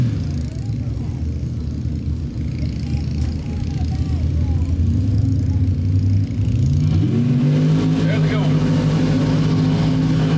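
Mud racing trucks idle and rev at a mud race, a loud, steady engine rumble that climbs in pitch toward the end as the engines rev up, with an announcer talking over it.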